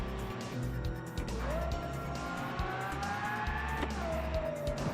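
A car engine in the game Automation roars steadily at high revs in a tunnel, pitch climbing and dropping with gear shifts, with faint tire noise throughout.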